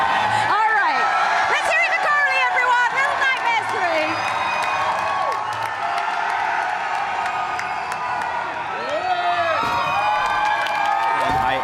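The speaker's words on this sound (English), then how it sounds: "that crowd is going crazy out there" A loud Gamescom award show crowd cheers and whoops continuously, with voices talking over the roar throughout.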